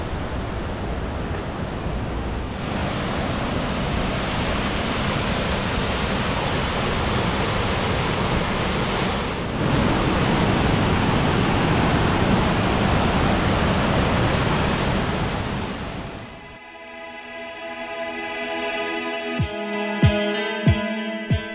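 The Saut du Loup waterfalls roar as a loud, steady, broadband rush of falling water that continues for about sixteen seconds, then falls away to quieter ambience with a few faint knocks.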